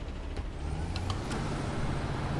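A truck's air brake hisses in the SnowRunner video game as the parking brake is set, a steady broad hiss over a low idling engine rumble, continuous and close, with no talk.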